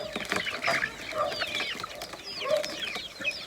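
Chicks and hens cluck and cheep at feeding time, with a busy overlapping chorus of close, fairly loud calls and occasional wing flaps.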